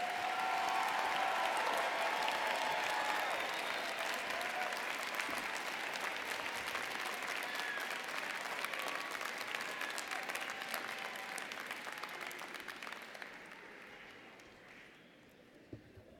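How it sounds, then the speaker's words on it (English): A commencement crowd at the UIC College of Education claps for new Masters of Education graduates. The applause is full and steady at first, then gradually thins and fades away over the final few seconds. "would like to salute you with a round of applause"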